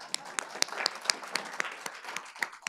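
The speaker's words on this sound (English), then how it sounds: "Big round of applause." A small audience at a talk on mindset for peak performance claps for a speaker, distinct individual hand claps in an uneven rhythm, fairly close and moderately loud, with no one speaking.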